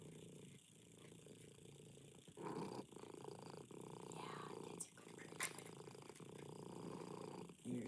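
A cat purrs in a low, rhythmic rumble close up, steady throughout, with a soft voice talking faintly over it.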